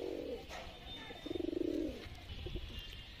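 Sialkoti breeding male pigeon cooing in a close, rhythmic pulsing burst with a softer coo before it, amid faint background bird chirps.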